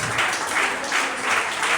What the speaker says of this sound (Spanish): Dale ese aplauso al autor de las llaves.